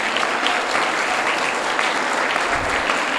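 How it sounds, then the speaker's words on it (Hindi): Sustained applause from a gathered audience welcoming a guest at an Arya Samaj Patel Nagar children's workshop in Delhi, steady and dense clapping filling the whole stretch without pause. "उनका भी एक बार तालियां द्वारा अभिनंदन करेंगे"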